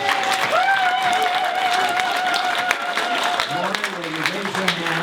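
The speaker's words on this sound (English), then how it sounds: "give her a great applause" Audience at a healthcare forum applauds the new executive director, a steady wash of clapping across the whole stretch with a voice speaking over it and a low voice joining near the end.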